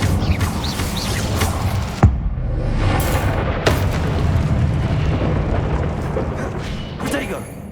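Fire spell bursts in Hogwarts Legacy gameplay: a sharp crack of combat blasts with rumbling booms and crackling flame over a dense, busy game soundscape, several impacts spaced through the scene.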